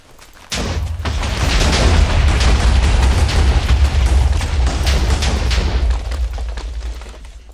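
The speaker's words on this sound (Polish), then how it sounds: "Wszystko wybuchamy, a co?" Large explosions blowing everything up in Minecraft, a sudden loud rumbling blast that sustains for several seconds with crackling debris, then fades slightly toward the end.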